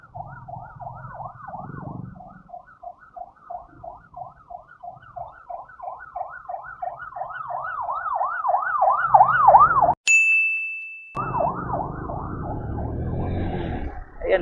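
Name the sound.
ambulance siren sounding behind at a stoplight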